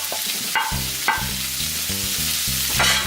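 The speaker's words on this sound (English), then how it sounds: "Now to stir to get everything evenly distributed." Goya champuru with bitter melon and tofu stirred in a frying pan: a bright continuous sizzle broken by a few spatula scrapes, with a low repeating hum underneath, close and loud, no talking.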